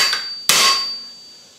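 A single loud, close metallic strike of a hammer on a chisel while a steel bottle opener is forged, ringing out and slowly decaying after a brief quieter tap beforehand.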